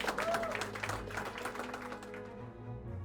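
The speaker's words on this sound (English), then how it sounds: "So a round of applause." An audience claps during a company's 40th anniversary celebration, a moderately distant patter of applause that tapers off toward the end, with some background voices.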